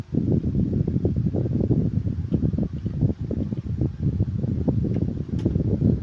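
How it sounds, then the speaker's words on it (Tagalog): A household electric fan blows close to the microphone, making a continuous, loud, gusty whooshing rumble that stays steady throughout. "Sorry kung may narinig ko yung medyo mahangin na dahil lang yun sa electric fan namin."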